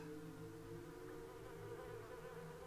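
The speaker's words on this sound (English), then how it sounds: "Sting bees. Those things fire fast." Sting bees in the video game Oddworld: Stranger's Wrath make a steady, dense insect buzz that holds at an even level for the whole moment, with a low hum beneath and no talking.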